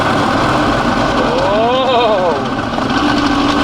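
Failed blower motor assembly in a 2017 Toyota Tacoma cabin, giving a loud steady whirring roar with a rising and falling whine in the middle, close and continuous, with a brief voice over it.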